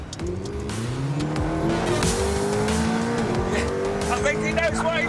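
McLaren Speedtail hypercar out on the road, its engine droning steadily while a high tire squeal rises over it throughout.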